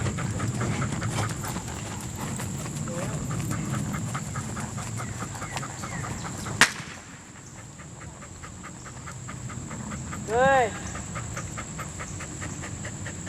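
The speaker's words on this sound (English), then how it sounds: "I can't control the neighbor's dogs." Neighboring dogs pant in quick repeated bursts, then give a short harmonic bark near the end, with a sharp knock midway and a voice briefly speaking.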